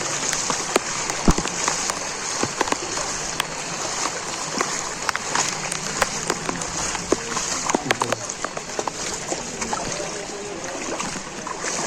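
Heavy monsoon rain pours onto a flooded street in Nalasopara, Mumbai, a constant loud hiss dotted with sharp close drops and splashes throughout.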